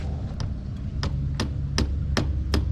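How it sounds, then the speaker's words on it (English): A hammer taps on motorcycle handlebar parts during a Pro Taper EVO bar conversion, giving about six sharp, evenly spaced metallic knocks over a steady low background hum. "Let's get a bloody hammer."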